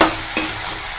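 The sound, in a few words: mango thokku sautéing and being stirred in pan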